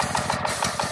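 A small engine with the choke on sputters to life and runs, chugging in a fast, steady pulse close by and loud, with no voices.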